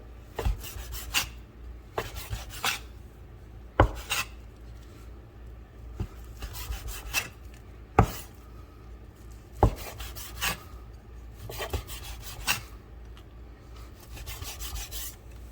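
A knife cuts through cold, firm pork butt on a board with repeated rasping strokes, each ending in a sharp tap at roughly one- to two-second intervals. The sounds are steady and close, with no talking.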